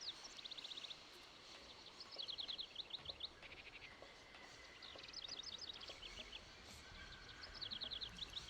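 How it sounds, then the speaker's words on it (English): Birds chirp in the Syberia video game world, repeated quick high-pitched trills in short bursts over a soft insect-like ambient hum, no talking. "I can hear the birds already."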